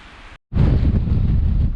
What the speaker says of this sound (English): Wind's just blowing right over